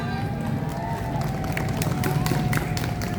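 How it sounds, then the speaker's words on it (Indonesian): A crowd at a nighttime city anniversary celebration near the Tugu in Yogyakarta applauds, scattered claps rising within a dense, steady wash of crowd noise. "Saya boleh minta tepuk tangan yang meriah."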